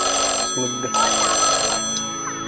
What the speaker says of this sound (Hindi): फोन आ गया एक बारी